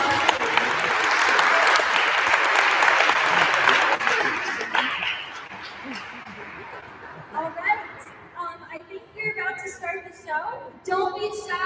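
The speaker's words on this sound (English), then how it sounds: "So give them a round of applause." An audience at a school dance concert bursts into loud applause that fades after about five seconds, giving way to scattered claps, murmuring and people talking.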